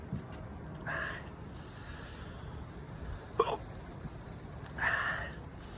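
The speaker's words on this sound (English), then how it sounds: "Now we just gotta get used to the hiccups." Hiccups from someone who has just eaten habaneros in a spicy food challenge: three separate, moderately loud hiccups roughly two seconds apart, with a sharp catch in the middle, over a steady background hiss.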